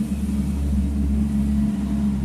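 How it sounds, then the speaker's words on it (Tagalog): Steady low traffic roar from vehicles on a nearby highway, a constant loud rumble with no pauses or voices. "Lakas ng ano, ugong ng sasakyan. Nasa tabing highway kasi ako eh."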